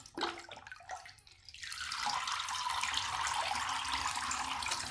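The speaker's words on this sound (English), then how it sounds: "We use these cups for all sorts of fun activities in the bath, from pouring the water" Water pours from small Bluey family bath toy cups into a bath, a few soft splashes and trickles at first, then a steady, continuous close pour filling the space.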